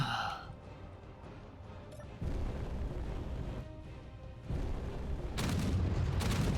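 Gunfire strikes a ship in Space Engineers, landing between hydrogen tanks as a series of low booming impacts and rumbling bursts that grow louder and denser toward the end.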